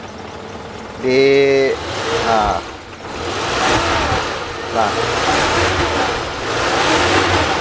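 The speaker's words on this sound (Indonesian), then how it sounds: "Coba kita gas ya, kita" A 2002 Suzuki Carry 1.0 pickup engine is revved several times, rising and falling near the listener, while someone talks over it.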